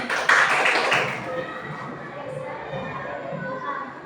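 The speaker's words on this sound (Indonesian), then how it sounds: "Tepuk tangan dulu untuk teman kita" A burst of group clapping with a lively crowd of children's voices in a classroom, loudest at the start and then fading into chatter.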